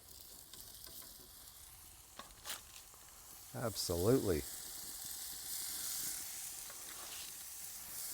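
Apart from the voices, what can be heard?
beef burger patties sizzling in a pan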